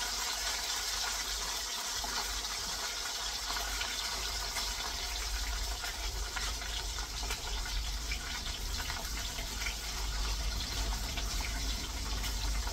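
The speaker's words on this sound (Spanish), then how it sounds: "Este montón de aceite que brinca" Potatoes fry in a pan of spattering oil, making a steady, dense sizzling hiss with faint crackles throughout, close and unbroken, with no voices.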